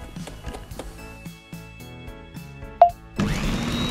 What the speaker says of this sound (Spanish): ¿prendes la licuadora?